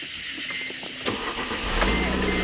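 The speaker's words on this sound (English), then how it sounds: "Start the car." A 2006 Mercedes-Benz C230 engine cranks briefly with a whirring starter and catches, settling into a steady close idle.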